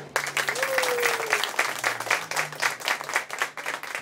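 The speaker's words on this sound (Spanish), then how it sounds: "les pido un fuerte aplauso al doctor Rodolfo Dirzo" A crowd at an ecology event applauds a visiting scientist, dense, loud clapping that swells and pulses throughout, with a brief whistle-like tone rising over it early on.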